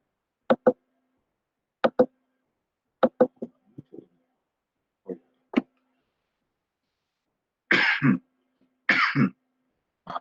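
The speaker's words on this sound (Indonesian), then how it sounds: "Saya batuk-batuk dari kemarin." A person coughs and clears their throat in a quiet room: short double bursts spaced a second or two apart, then two longer, harsher coughs near the end.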